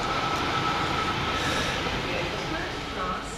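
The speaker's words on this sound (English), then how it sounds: "Just about to arrive at the station, the 1709 First Great Western high-speed train service from London Paddington to Bristol Temple Meads" A First Great Western high-speed train pulls into a station, a steady loud rumble and rushing wheel noise with faint squeal, continuous throughout without talk.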